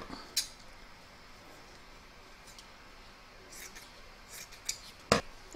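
Scissors snip through batting scraps in a few sharp, isolated cuts at the start and near the end, with a quiet room in between.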